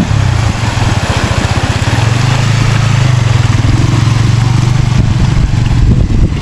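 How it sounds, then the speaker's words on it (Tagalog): Motorcycle engine chugging steadily as the bike crosses a river at Daraitan River in Tanay, Rizal, a loud, close, continuous mid-pitched drone with an even pulsing rhythm and no voices. "tinatawid niya sa ilog yung kanyang motor."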